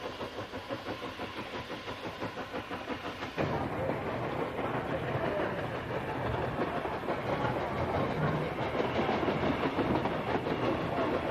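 Train on the Pichi Richi Railway line through the Flinders Ranges, a steady rumbling roll with clattering wheels on old track, growing slightly louder and fuller partway through.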